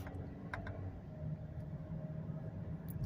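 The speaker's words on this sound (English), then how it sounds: "So the engine sounds very healthy, even at this mileage." Engine of a 2008 Saturn Vue XE with about 145,000 miles, driving at roughly 30 mph, heard as a steady low rumble and drone from inside the cabin, with faint ticks and road noise.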